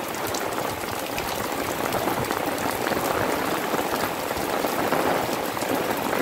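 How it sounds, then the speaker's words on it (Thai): Heavy rain driven by strong wind pours onto a garden of colocasia plants, a dense, steady hiss of falling water with no breaks. "ช่วงนี้ลมแรงฝนแรงจริงๆครับ"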